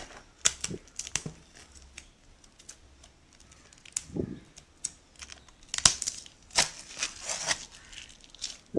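An Amazon package holding vehicle vinyl stickers being opened by hand, with crinkling plastic, tearing and sharp snapping clicks in irregular bursts and pauses, heard close up.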